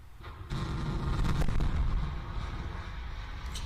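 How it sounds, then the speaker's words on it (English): A sudden deep boom from a distance as a SpaceX Starship prototype impacts the launch pad, followed by a long rumbling roar that slowly fades, with a sharp crackle near the end. "that was the sound of the vehicle impacting on the pad"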